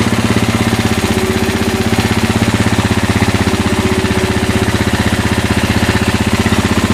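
A 2000 Polaris Lakota ATV engine running after a cold start, a loud, close, steady rapid putter with an even pulsing rhythm throughout and no voices.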